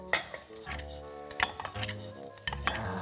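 Mayonnaise going into hot stir-fried small anchovies in a pan, with clanking utensil knocks against the pan and scraping, irregular and close, and light sizzling in between.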